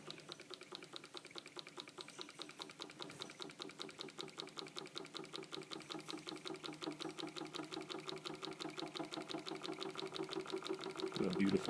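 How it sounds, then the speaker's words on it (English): An antique Stirling engine heated by a candle and a lighter runs with a fast, steady mechanical ticking and whirring that gradually gets a little louder and quicker, close by and continuous. "if I just apply a little more heat with a lighter, you'll see I'll pick up some RPMs here"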